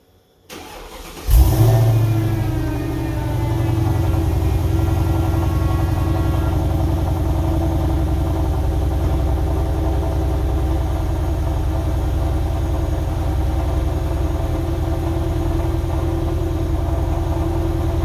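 A Mercedes W211 E55 AMG engine with a modified muffler cranks and fires up, briefly revs loudly, then settles into a steady, smooth idle that hums on without interruption.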